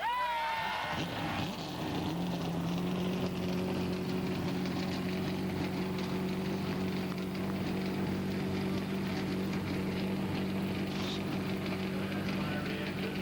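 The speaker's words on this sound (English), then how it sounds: "the field of 43 roars to life" Forty-three NASCAR stock car engines fire up together at Talladega, a dense, sustained roar with low droning tones that swells after a brief opening and holds loud, with crowd and announcer sounds faintly underneath.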